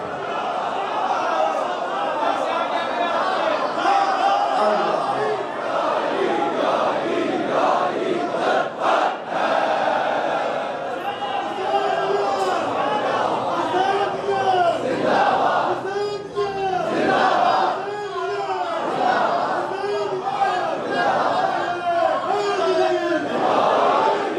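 A crowd at an Eid Milad-un-Nabi gathering chants religious slogans in loud, rhythmic call-and-response waves, voices rising together in repeated surges over steady murmuring.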